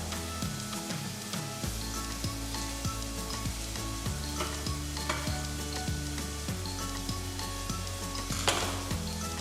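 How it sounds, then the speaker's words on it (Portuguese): Onion and garlic sizzle in oil in a pan with a bay leaf, a steady close crackle broken by repeated light stirring strokes. "devemos só dar uma ligeira mexidela para não queimar nem a cebola nem o alho"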